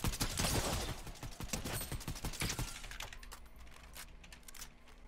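Rapid bursts of gunfire from the Fortnite video game, a dense run of sharp shots and rattling volleys in the first half, easing into quieter scattered clicks and a steady low hum.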